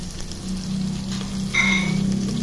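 Garlic and onion sautéing in a pan for tinola, a steady moderate sizzle with a low hum and a brief brighter burst of frying partway through, with no voices.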